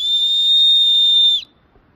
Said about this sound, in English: I'm going to give them another whistle so they know we are still alive.